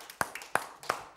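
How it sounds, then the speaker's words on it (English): A church congregation clapping their hands during a Wednesday service: a handful of crisp claps in a quick, steady rhythm, fairly close and clear. "Give the Lord a hand clap tonight."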